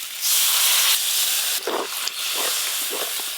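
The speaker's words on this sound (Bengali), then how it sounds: "আলু কাঁকড়া আর মশলা একসঙ্গে কষানো হয়ে গেছে, এবার জল দিয়ে দেবো।" Water poured onto frying potato, crab and masala for a crab jhal, giving a loud close burst of steam hiss that eases then continues over a few gurgling bubbles, no speech.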